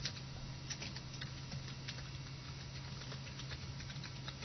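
Keys on a computer keyboard tap in a steady, soft patter, layered over a constant low electrical hum and with no voices.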